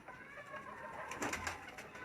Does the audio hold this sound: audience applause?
no